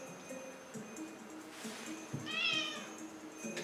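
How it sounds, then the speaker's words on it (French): A single drawn-out cat meow rises near the middle of the clip, close and clear over quiet room noise. "Il y a mon chat qui passe."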